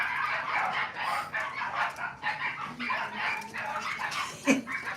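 Lively puppies barking and yipping in short scattered bursts while they play wildly, with one sharper yelp near the end. The barks are close and moderately loud, and there is no clear talk over them.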